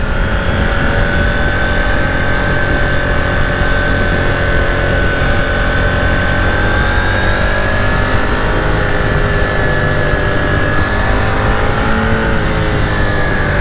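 A 2021 KTM 890 Duke R is ridden with a loud, steady engine drone whose pitch climbs and falls gently as the revs change, over constant wind rush, and no one speaks.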